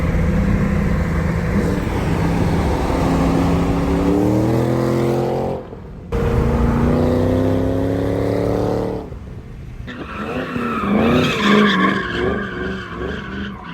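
A 2014 Ford Shelby GT500 with supercharger induction and exhaust, loud and close, revving up in rising tones, dropping off briefly on gear changes, then climbing again with a harsh, layered whine.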